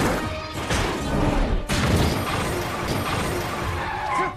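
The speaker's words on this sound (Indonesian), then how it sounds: "Terjadilah kecelakaan besar di lintasan, membuat para mobil tak bisa melintas." A big race-track car crash in the animated film Turbo, a dense continuous roar of smashing and crunching debris that stays loud for several seconds.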